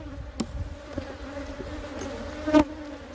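Worker honey bees buzz at a hive entrance as foragers return carrying pollen, a steady close insect drone with a few louder passes near the microphone.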